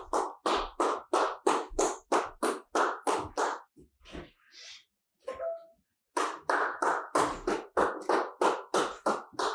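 Hands clap in a steady, rapid series of sharp claps, close and loud, with a pause of a few seconds and faint rustling and brief sounds before clapping resumes.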